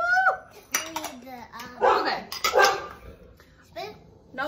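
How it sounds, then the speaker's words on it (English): A dog barks and yelps excitedly in a home kitchen during baking of a strawberry shortcake, in short bursts mixed with clattering dishes and utensils, while someone talks over it. "my dog in this is just always going crazy"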